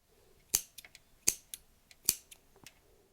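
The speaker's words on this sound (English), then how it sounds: "Now we'll go ahead and snip off all these bobbins, leaving a tail of a few inches." Sharp, crisp scissor snips cutting knitting yarn free from intarsia bobbins, about four distinct clicks with a few smaller ticks between them, close and quiet with nothing else around.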